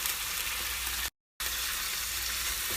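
Vegetables frying with shrimp in a pan for Chinese fried rice, a loud continuous sizzle on both sides of a short, sudden gap of silence, with no voices.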